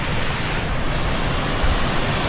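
Water rushes steeply down a mountain stream, a loud, close, continuous roar of churning flow with no pauses.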